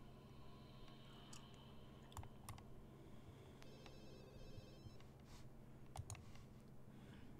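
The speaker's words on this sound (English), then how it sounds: "You gonna answer the phone?" A faint telephone ring from The Sims 2 game repeats a few times at a low level over quiet background hum, with light clicks scattered throughout.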